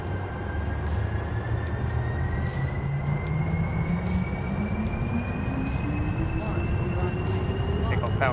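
Cessna Citation C680 business jet engines spooling to takeoff power in Microsoft Flight Simulator 2024, a loud steady roar with rising whining tones climbing in pitch across the whole stretch.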